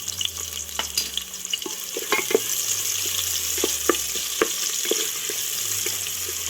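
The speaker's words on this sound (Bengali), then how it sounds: "পেঁয়াজটা আমি হালকা ব্রাউন করে ভাজবো" Onions sizzle in hot oil in a pan as they are lightly browned for a vegetarian bhuna khichuri, a constant hiss broken by sharp clicks and scrapes of stirring.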